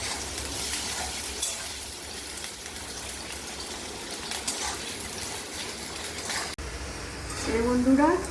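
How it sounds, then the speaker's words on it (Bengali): Potato pieces sizzle in hot oil in a home kitchen after fritters were fried, making a steady broadband hiss that runs throughout, with a stir or clatter near the end. "এই বন্ধুরা, আলুগুলো আমার লাল করে ভাজা হচ্ছে।"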